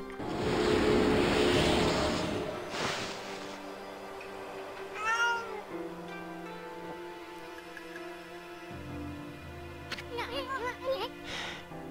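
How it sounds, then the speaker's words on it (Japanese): A lone cat perched atop a tower in the video game Okami HD meows a few times, one call near the middle and a quicker burst of meows toward the end, clear and close over a soft game soundscape. "猫の鳴き声がやんだ。"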